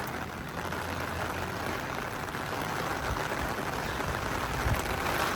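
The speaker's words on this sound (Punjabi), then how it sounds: "ਬਾਰਿਸ਼ ਸ਼ੁਰੂ ਹੋ ਚੁੱਕੀ ਹੈ" Steady hiss of monsoon rain falling in the hills near Baijnath, Palampur, even and unbroken throughout, with no voices.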